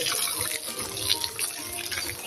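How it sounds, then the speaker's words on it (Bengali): Water running from a pipe, a steady broad hissing rush that carries on close and unbroken throughout, with no talking. "এখন জল দিই, তোমরা দেখো জল দিচ্ছি পাইপের মাধ্যমে"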